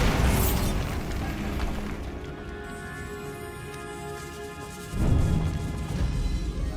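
A Bombarda spell goes off in the game Hogwarts Legacy: a loud, roaring blast that decays into a long rumbling tail, then a second burst of crashing noise near the end.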